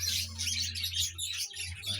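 Two young male pet birds, hand-raised at home, chirp in rapid overlapping bursts close by, over a steady low hum.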